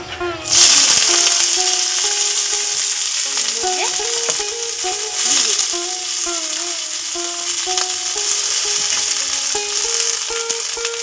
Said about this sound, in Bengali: এর মধ্যে বিট বলছি, গাজর, ক্যাপসিকাম আর হচ্ছে বিনস। একটু ভাজা ভাজা করে নেবো